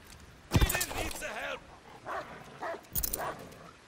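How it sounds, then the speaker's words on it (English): In a video game, a dog barks and yips several times in short bursts, fairly faint, alongside game audio. "That's my dog."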